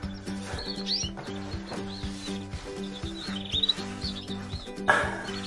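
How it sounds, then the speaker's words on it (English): A brush or sponge rubs in short repeated strokes against the back of a bird cage during cleaning, under a steady hum with high chirps from nearby budgies or canaries. "So we give the back of the cage a scrub."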